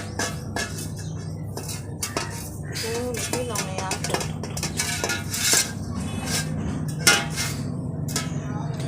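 A metal parat tray is greased with ghee for homemade rice papad, with steady clinks and scraping of metal on metal, close and moderately loud, and no talking.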